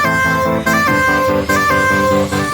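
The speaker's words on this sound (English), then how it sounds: "without the Endless Smile, it sounds like this" A dry future bass build plays with no reverb or filtering: stacked synth chords pulse in a steady repeating rhythm, loud and close, with brief dips between bars and no voices.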